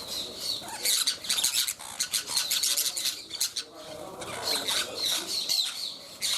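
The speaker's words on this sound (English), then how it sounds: "These are wild birds, and the thing is that they've been feeding these birds for decades now" Wild birds gather at a long-running feeding spot on a Brazilian trail, giving repeated sharp chirps and squawks close by, with scuffling and rubbing sounds between calls and no talk.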